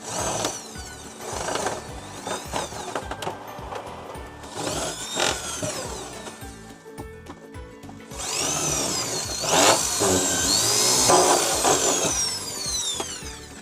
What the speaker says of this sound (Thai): เจาะด้วยสว่านตัวนี้ก่อนนะครับ